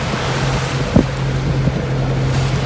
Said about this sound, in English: So we are on our way and we are sailing,